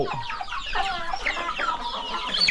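Chickens cluck and chatter nearby in a coop, several hens overlapping in busy, uneven calls with no voices as they are fed flying termites.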